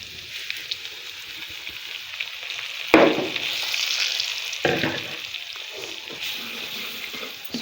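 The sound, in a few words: semolina added to hot ghee, sizzling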